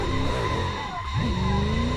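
Tyres skid and squeal as a car spins a full 360 in the Assetto Corsa racing game, a custom V8-swapped FC RX-7 on the Suzuka Twin Drifts track; a loud, continuous sliding screech with engine drone, no voices.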